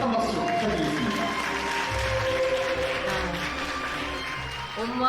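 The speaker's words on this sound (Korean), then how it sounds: "따뜻한 박수 부탁드리겠습니다" Warm applause from wedding guests as the bride's mother enters the ceremony, steady clapping throughout under music playing in the hall.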